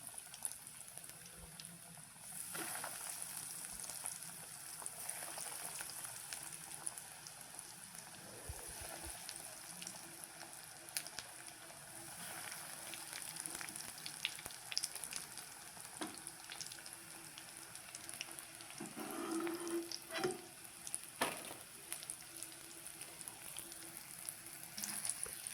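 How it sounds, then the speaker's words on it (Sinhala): Cutlets frying in hot oil, a soft steady sizzle and bubbling that runs the whole time at low volume, with a few faint clinks and handling sounds partway through. "තෙල් ටික රත් වෙලා වගේ දැන් අපි කට්ලට් එකක් දාගෙන බලමු කොහොමද කියලා"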